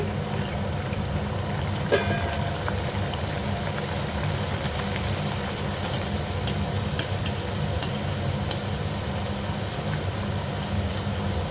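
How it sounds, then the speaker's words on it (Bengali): Green-pea kochuri, vegetarian stuffed breads, drop one at a time into hot oil and fry with a dense, continuous crackling sizzle close by, with scattered small pops and no voices. "তেলটা দেখো গরম হয়ে গেছে এবার আমি একটা একটা করে ছাড়ছি"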